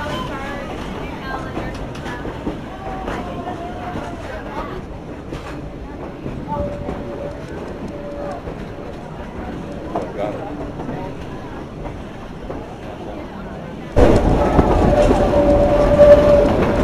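Durango Silverton narrow-gauge steam train working up a 3% grade at over 9,000 feet in the San Juan Mountains, a steady rumbling rail sound that grows louder near the end, with a voice talking over it throughout.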